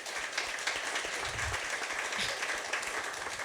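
A crowd at a community business event claps in a short, dense burst of applause, filling the moment evenly with no voices standing out.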